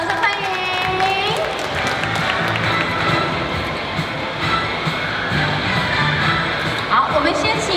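An audience at the opening press conference of a Taiwan Excellence exhibition in Kaohsiung claps to welcome Chie Tanaka: dense, steady applause throughout, with music or background voices mixed in.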